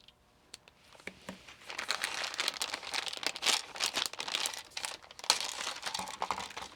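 Plastic bag of small baggies from a toolkit crinkling and crunching up close, a steady run of dense rustles and crackles that builds after a quiet start and keeps going throughout.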